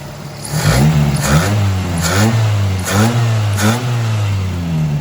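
A car engine that had been misfiring is revved repeatedly up close, about five rising-and-falling vroom cycles with a steady idle between them, loud and alone.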